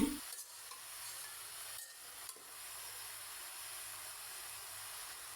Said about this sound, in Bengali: এখন সবজিটা আমি কিছুক্ষণ ভেজে নিচ্ছি